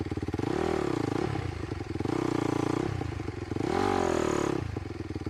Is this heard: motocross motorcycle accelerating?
yes